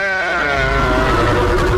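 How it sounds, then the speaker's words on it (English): A sheep bleats loudly in a horror game trailer, one long wavering cry that rises into a harsh, distorted tone over a rumbling low backdrop. "What's going on with this sheep?"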